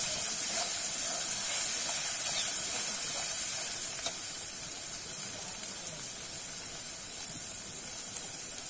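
Mustard and poppy seed paste for potol posto sizzling and hissing steadily in a hot pan while being stirred, a continuous fry noise that eases slightly in volume partway through.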